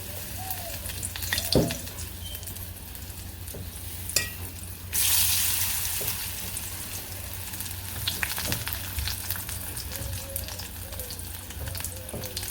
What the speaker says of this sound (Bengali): তেল গরম হয়ে গেছে এখন বড়াগুলো আর কি যেরকমভাবে গুড়ি ভরে ভরে দিয়ে দিই